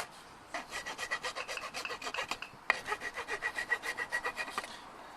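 Hand file rounding off the cut edges of bug screen mesh for a Gen 3 Pajero. Close, steady rasping strokes in a quick even rhythm, with a brief pause midway before the strokes resume.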